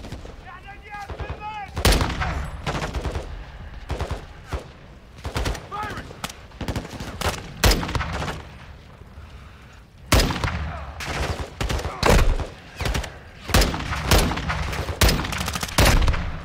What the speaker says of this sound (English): I shot him like three times